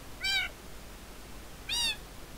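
Two short Minecraft cat meows, evenly spaced about a second and a half apart, sound clearly over a faint background hum.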